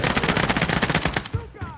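Rapid automatic gunfire from the video game Warzone rattles in a loud, dense burst, then breaks into a few scattered shots as it trails off.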